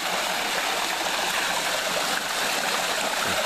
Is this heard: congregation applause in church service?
no